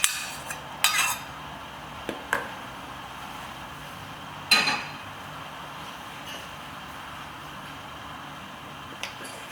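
A spoon scrapes and clinks against a bowl while a crumbly Anzac slice mixture is slowly combined: a few irregular, close knocks and scrapes separated by quiet pauses.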